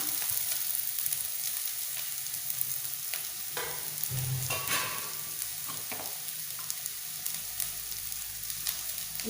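Grated coconut frying with turmeric in a pan, a steady close sizzle with crackling pops and occasional scraping stirs throughout.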